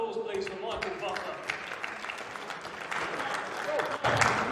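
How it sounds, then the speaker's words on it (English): Audience applause at a heavyweight boxing press conference, a sustained round of clapping mixed with crowd noise and voices, building slightly toward the end. "Let's get a round of applause, please, for Michael Buffer."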